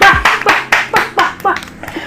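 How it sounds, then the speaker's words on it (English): About eight sharp hand claps, loud and close, that gradually slow and soften, like brief applause from one or two people. "we deserve a round of applause"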